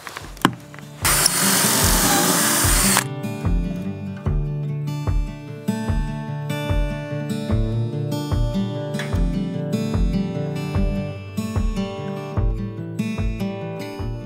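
Power driver sinking Fasten Master Cortex hidden screws into PVC door trim, a loud burst of whirring followed by a steady run of rhythmic clicking, ratcheting pulses repeating about once per second.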